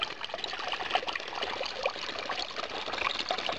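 Water trickles steadily from a pipe at a spring beneath a shell-lined foundation, a continuous bright splashing and dribbling close by, with no voices over it.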